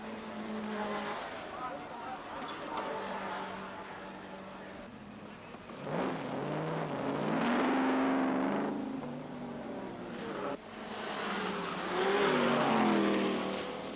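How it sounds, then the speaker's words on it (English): Touring cars racing in the 1969 Hardie Ferodo 500, with loud engine roar rising and falling as cars pass, a strong surge around the middle, under a commentator talking throughout. "Then a scheduled pit stop for Digby Cook that brings another change of positions"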